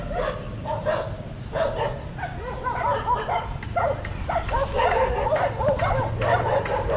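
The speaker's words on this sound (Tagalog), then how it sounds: "Daming aso dito." Several dogs bark and yip in repeated bursts at a construction site beside the Estero de San Miguel, fairly close over a steady low rumble of outdoor background noise.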